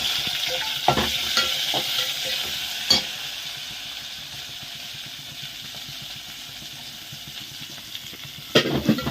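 Onion, garlic and spices frying for a tamarind fish curry, a steady close sizzle with stirring clatters and a few sharp spoon knocks, alone without talk.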